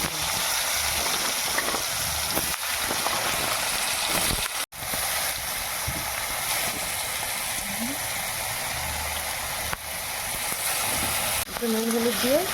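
Potatoes fry in a pan of oil left over from frying fish heads, giving a steady, continuous sizzle at close range throughout.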